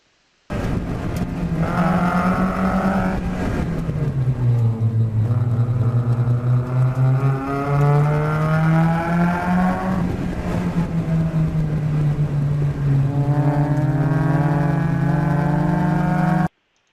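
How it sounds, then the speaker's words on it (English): A race car engine drones loudly, pitch rising and falling as the driver comes on and off the throttle, then holding steady under acceleration. "you can hear the car get on the throttle sooner and stay on it"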